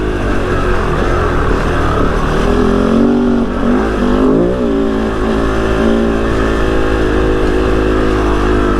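Kove FSE 450 R rally motorcycle's single-cylinder 450 engine droning steadily under load while riding, loud and close with continuous wind rush and small pitch shifts as the throttle eases and picks up.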